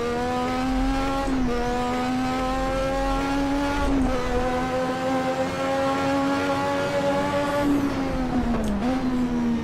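Lotus 98 turbo Formula One car with a 6-speed gearbox in Assetto Corsa, a loud, close, buzzing turbo engine held at high revs. Its pitch drops briefly at a few gear changes, with no talk.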